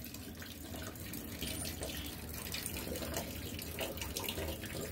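Water rushes steadily into a maple sap collection line at a sugar bush, a continuous close gushing flow with no pauses.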